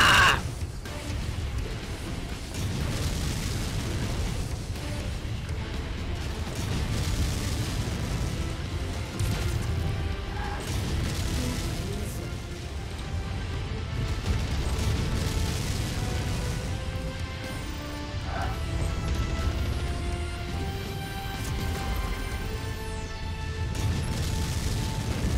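Mech weapons fire and explosions rumble through a dense, continuous battle mix in MechWarrior 5: Mercenaries, with low booms and mechanical clatter sustained throughout and tonal radio chatter layered over it.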